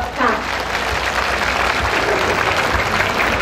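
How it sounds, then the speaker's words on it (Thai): Audience applause fills a winter festival opening ceremony in Lampang province, a steady wash of clapping that runs throughout, close and fairly loud, with faint talk underneath. "ขอเสียงปรบมือดังๆครับ"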